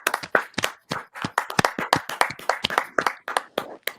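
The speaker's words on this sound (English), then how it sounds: "Can we get some applause for Robert Helenius from the panel?" A small panel of a few people claps for a boxer during a boxing watch party, sharp separate hand claps in a loose, fairly close rhythm with no talking over them.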